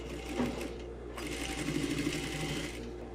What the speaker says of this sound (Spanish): Ya que llegamos al final de la costura, vamos a dar un remate.